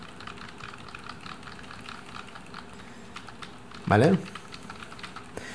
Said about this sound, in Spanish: voy a apretar algunas teclas para que lo escuchéis